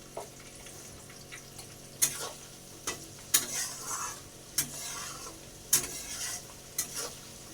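Spice paste of ginger, garlic, green chili, tomato and onion fries in a pan with a soft, constant sizzle, broken by a few sharper scrapes and clinks as it is stirred, close and fairly quiet.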